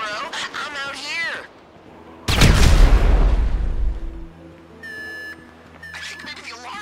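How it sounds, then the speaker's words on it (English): A loud explosion in a heist video game, a heavy booming blast that rumbles for about two seconds. It is followed by a steady electronic alarm beeping, with players talking before the blast. "An explosion will tend to do that."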